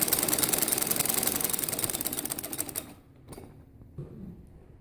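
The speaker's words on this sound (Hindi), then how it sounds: "अब मैं मशीन की इसको सिलाई लगा रही हूँ" A sewing machine stitches the pleats of a samosa salwar in a steady rapid mechanical whir for about three seconds, then stops, leaving a quiet room with faint clicks and handling noise.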